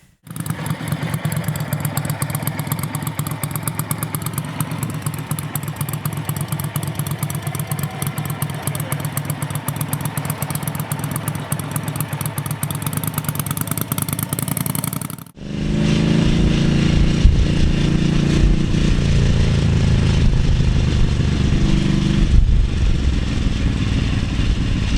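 A Ducati SS motorcycle engine running steadily, close and loud, with a rapid even pulse that shifts midway into a deeper, heavier roar.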